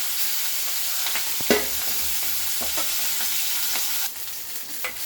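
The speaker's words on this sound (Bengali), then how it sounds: "এটা মাছটা ভালো করে একটু ভেজে নিতে হবে।" Katla fish pieces frying in hot oil in a wok, a steady broadband sizzle running throughout with a few sharp clinks and stirring taps, heard close with no talking.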